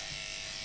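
Electric clippers shave a cat's matted fur, giving a brief, steady, close-up motor buzz.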